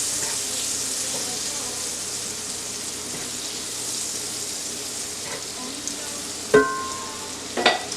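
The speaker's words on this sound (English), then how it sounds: "to this, we're going to add a little more olive oil, another tablespoon of butter" Butter and olive oil sizzle together in a cast iron pan, a steady close frying hiss that runs throughout, with a few light clinks of utensils near the end.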